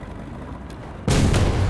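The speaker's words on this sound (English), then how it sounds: "I had a shot to my right." A tank cannon fires once in the War Thunder video game, a sudden loud boom that follows a second of low rumbling background and keeps ringing to the end.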